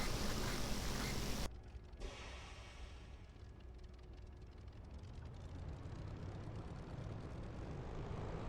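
A propeller aircraft engine in a flight simulator runs up to about 1400 rpm: a loud steady drone that drops abruptly after a second and a half, then hums on at a lower, gradually rising level.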